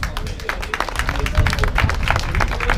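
A crowd at a cadet bike race in Trébeurden claps and cheers steadily, dense and sustained, with a voice talking over the applause.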